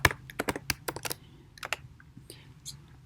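Quick, close keystrokes clatter on a computer keyboard in an uneven burst, then thin out into a few scattered taps.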